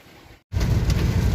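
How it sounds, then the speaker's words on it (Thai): Steady rain drums loudly on a vehicle driving along a road toward Nong Phok in Roi Et, a dense wash of noise cutting in abruptly after a brief near-silent gap. "ฝนตกตลอดทางเลยครับ"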